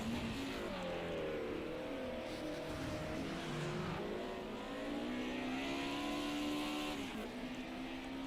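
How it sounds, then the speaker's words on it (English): A Ford Cosworth race car engine whines as it comes up a rally straight, a steady high revving tone rising and shifting pitch through gear changes, loud and continuous with no speech. "We can hear the whine of that Ford Cosworth coming up the straight there."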